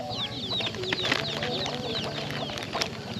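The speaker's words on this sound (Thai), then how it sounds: "อันนี้มันไก่น้องบ่" Chickens on a rural farm clucking and chirping in a busy, continuous chorus, with bird calls layered close by and no talk over them.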